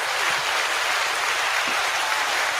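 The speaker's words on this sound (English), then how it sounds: "So again, we'll give him an applause." Steady applause from a studio audience on a sports talk show, a dense continuous wash of clapping at a fairly loud, even level that stops abruptly at the end.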